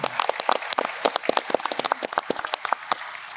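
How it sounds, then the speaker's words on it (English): Light applause from a conference audience, a scattering of distinct claps with irregular rhythm, fairly thin and moderately distant, with no talk over it. "I think they deserve a round of applause."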